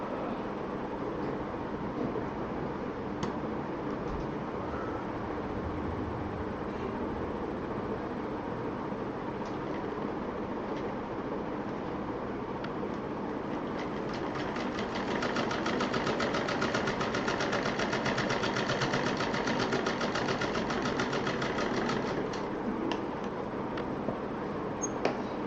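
A sewing machine stitches piping onto plain fabric, a faint continuous mechanical whir that turns into a denser, rapid needle chatter in the second half.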